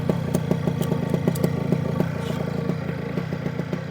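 An OpenPPG SP140 paramotor engine idles during break-in, a steady close-up chugging putter with fast even firing pulses and light mechanical clatter throughout.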